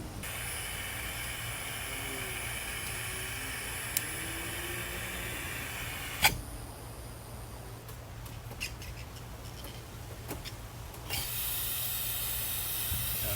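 Steady hiss of cleaner spraying under pressure from a car fuel injector during bench cleaning, continuous throughout with a low hum beneath, a sharp click partway and faint crackles before the hiss swells again near the end.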